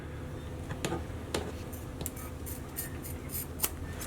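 Scissors trim excess Dyneema rope in a few sharp, faint snips and ticks over a steady background hum.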